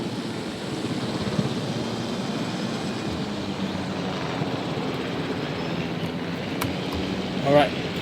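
A helicopter, apparently in a video game, flying near power lines gives a steady, close rotor-and-engine drone that runs the whole time beneath a speaking voice.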